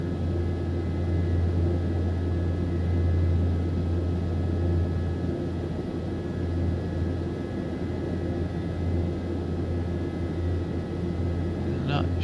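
Twin turboprop engines of a Piaggio P180 in Microsoft Flight Simulator 2024 hold a steady, loud droning hum at flight idle, with constant tonal whine and rumble throughout and no talking.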